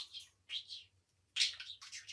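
A budgerigar chirps and chatters in quick bursts of bright, scratchy notes, close and fairly quiet, with short pauses between.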